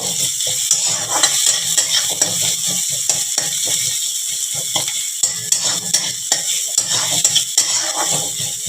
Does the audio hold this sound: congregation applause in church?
no